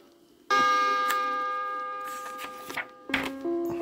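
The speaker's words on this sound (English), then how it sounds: "when you hear the chime, turn the page" A clear bell-like chime rings out with a long ringing decay, followed by a second, shorter chime tone near the end.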